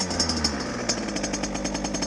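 A Beta 50 RR enduro motorcycle's small two-stroke engine idles just after a kick start, a rapid, rattling putter with regular pulses, close and moderately loud, with no voices.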